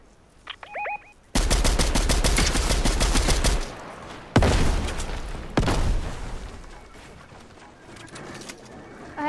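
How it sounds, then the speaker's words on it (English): Rapid automatic gunfire in a multiplayer shooter game, a long sustained burst of shots followed by a sharp loud report and another shorter burst, fading into ambient game noise. "Somebody's shooting."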